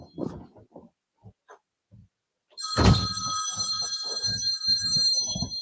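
A telephone bell starts ringing suddenly and loudly, a continuous bright trill that goes on for several seconds. Someone talks over the ringing, and some scattered voice sounds come just before it.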